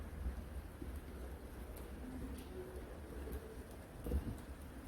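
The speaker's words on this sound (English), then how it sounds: "now it's been raining too much. I'm going to have to get out of this rain" Rain falling outside a shed, heard as a faint, steady wash with low rumbling wind and a few soft thumps, no talk.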